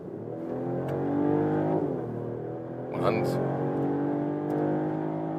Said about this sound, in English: Mercedes E-Class 450 in a new generation. Acceleration test in the sport mode.